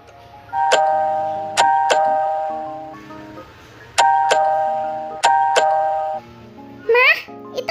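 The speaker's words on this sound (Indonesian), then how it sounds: "Yaudah deh, bel pintunya." A cartoonish doorbell from the Toca Life World game chimes clearly in repeated ding-dong pairs, each tone ringing out and decaying, followed by a short squeaky voice at the end.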